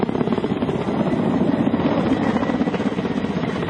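A Ka-27 ship-based anti-submarine helicopter's rotor thumps steadily with a dense, rapid chop and engine whine, loud and continuous throughout.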